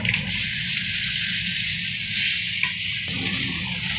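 Spice paste hits hot oil flavoured with cloves, black cumin and cinnamon while cooking a prawn malai curry. The result is a loud, continuous, gushing sizzle close up, with no speech.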